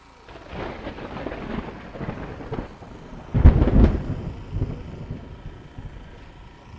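Low rumbling thunder rolls across an outdoor football pitch at an under-17 championship third-place match before the rain starts, swelling into a louder, closer burst midway with wind buffeting the microphone.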